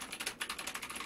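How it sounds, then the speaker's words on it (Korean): Fingers type on a mechanical computer keyboard in quick, irregular bursts of crisp clicking keystrokes, fairly close and clear, with no voices heard. "키보드 드립니다. 기계식이에요."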